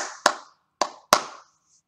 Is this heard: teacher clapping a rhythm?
yes